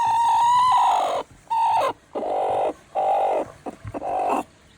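A brooding hen sitting tightly over her newly hatched chicks gives a run of close, drawn-out clucking calls in several bursts separated by short pauses, with no talking.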